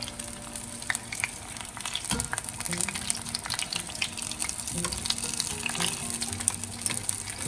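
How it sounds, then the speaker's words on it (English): Battered Vidalia onion rings bubble and sizzle in hot frying oil, a steady, fairly quiet crackle with small pops and a brief clatter near the start, with no talking. "once they're in the oil, once you see them brown a little bit, I'm gonna give them a little flip"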